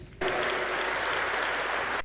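Audience applause at a festive concert in a sports hall, breaking out suddenly after a brief quiet and holding as a dense, steady wash of clapping to the end.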